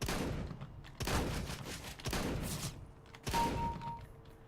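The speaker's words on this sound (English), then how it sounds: "I love how I headshot that guy with the shotgun." A shotgun fires in a PC video game in several heavy bursts about a second apart, each blast loud and sharp before fading into a short tail.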